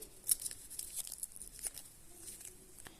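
A small paper packet with nail stickers inside, taped shut, is pulled open with faint, close crinkles, rustles and a few sharp little tearing clicks.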